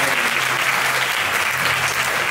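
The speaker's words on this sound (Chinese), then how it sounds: "再次用确认掌声" Dense, steady applause from a theater audience at a magic show in a performing arts hall, loud and sustained throughout with no voices over it.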